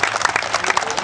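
A crowd claps in a brief, busy burst at a public gathering, with voices mixed in among the applause.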